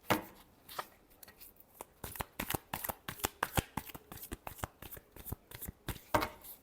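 Tarot cards are riffled and shuffled by hand in quick, crisp bursts of close, sharp flutters and snaps, fairly soft, with no talk over them.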